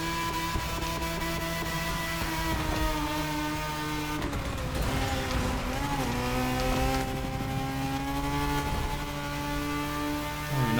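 Mazda and Lancia race cars in a racing video game hold a steady engine whine with shifting harmonic tones, the pitch sliding up and down through gear changes, loud and continuous throughout.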